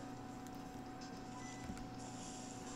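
Computer cooling fans hum steadily under a close microphone, a constant whirring drone with faint tonal whine and no speech.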